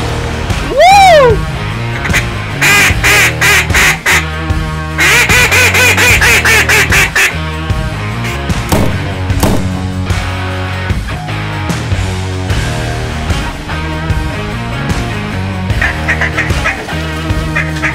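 Ducks call during a waterfowl hunt, with quacks and honking goose-like calls stacked in fast rhythmic bursts, loud and close, continuing for the whole stretch over busy background sound.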